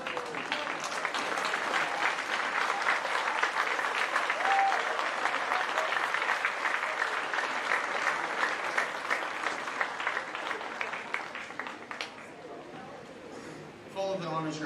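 A large high school crowd at an academic awards assembly gives a long, sustained round of applause for the class of 2024 honors graduates, dense and even before tapering toward the end with voices emerging.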